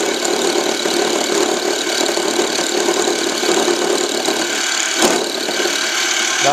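A small, not very rigid milling machine cuts a slot for a .22 LR shell holder, giving a continuous close grinding whine with a brief sharp knock near the end.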